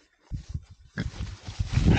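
Pigs loose after getting through an electric fence, heard as a run of close, low grunts and snorts in uneven bursts, growing louder and busier toward the end.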